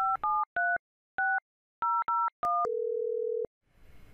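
A desk phone dials an internal call with rapid DTMF keypad tones, about eight short beeps in an irregular rhythm, followed by a sustained single tone and then faint line noise.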